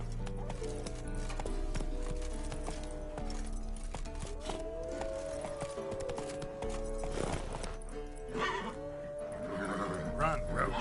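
Roach the horse galloping in The Witcher 3, rhythmic hoof clip-clop with neighs and whinnies over a game soundtrack, voices speaking over it at times.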